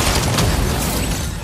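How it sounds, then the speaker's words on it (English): Dense, loud burst of rapid gunfire in a Fortnite match, continuous crackling shots filling the whole moment with no talk over it. "Someone's shooting at me."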